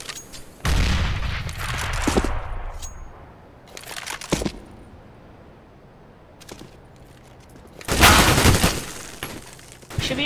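Rapid bursts of P90 submachine gun fire in Counter-Strike on de_dust2: a long loud volley near the start, a short burst midway and another heavy burst near the end, with quieter game ambience between.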